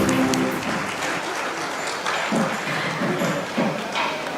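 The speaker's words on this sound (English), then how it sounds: "Have a round of applause from the audience," An audience at a foundation-laying ceremony for a new office breaks into applause, a dense patter of clapping that carries on steadily and slightly softens, with a few louder bursts near the end.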